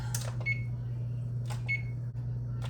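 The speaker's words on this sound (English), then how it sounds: "Gonna crank this oven up." A home oven sounds a few short electronic beeps as it is set to preheat to 425 degrees, the tones separated by pauses over a steady low hum.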